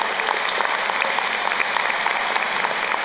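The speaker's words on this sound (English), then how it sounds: "You may applaud." A large audience applauds at the VCU School of Social Work 2022 commencement ceremony after scholarship awards are announced, a continuous, even roar of many hands clapping in a big hall.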